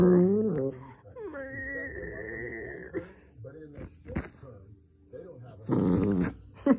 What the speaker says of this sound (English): Show her your growl.